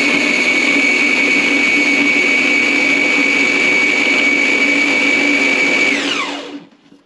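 A food processor grinds a thick dough mixture for Chernihiv-style galushki, running as a loud, steady high-pitched whine for several seconds before spinning down and falling quiet.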